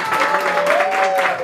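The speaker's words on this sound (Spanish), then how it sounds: "El aplauso bonito para Sofía." Family and guests applaud after a mariachi serenade at a quinceañera birthday celebration, with steady clapping throughout and a sustained musical tone faintly beneath it.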